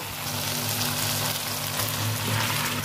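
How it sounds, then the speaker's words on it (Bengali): Fried vegetables dropped into sizzling spiced oil for Bengali dudh shukto, giving a steady, dense hiss and crackle with a faint low hum beneath, close and continuous, no voices. "মশলা থেকে তেল ছেড়ে গেছে, এবার আমি ভেজে রাখা সবজিগুলো দিয়ে দেবো"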